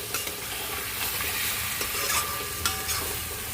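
Steady close sizzle of cottage cheese balls frying in spices, broken by several gentle scraping strokes of a spoon stirring the pan, with no voices.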